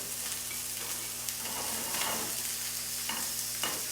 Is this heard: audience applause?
no